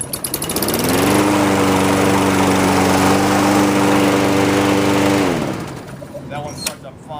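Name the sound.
Lawnboy or Sears lawn mower engine starting and running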